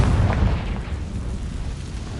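A Confringo blasting spell in Hogwarts Legacy bursts into a loud, rumbling explosion that decays into a dull roar over a couple of seconds.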